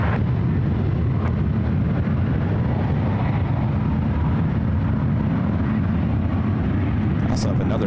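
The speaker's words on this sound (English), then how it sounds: "777-300ER heading out to the 28s for takeoff." A Boeing 777-300ER airliner taxiing out for takeoff at SFO, a steady, heavy jet engine rumble and hiss that holds constant throughout, loud and continuous, with a voice talking over it.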